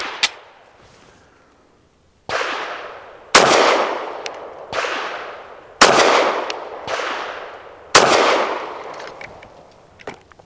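Six sharp gunshots from a SAR9 SC Gen 3 pistol firing Fiocchi Defense Dynamics 147 grain ammunition, spaced about a second apart after a lone first shot, each loud with a ringing outdoor decay.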